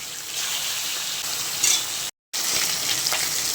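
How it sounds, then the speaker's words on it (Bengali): Hilsa fish pieces, salted and coated in turmeric, fry in hot oil with a continuous close sizzle and crackle, broken by a brief moment of complete silence before the frying noise resumes. "মাছটা ভেজে নিই বন্ধুরা, ভেজে নিয়ে দেখাচ্ছি আপনাদের।"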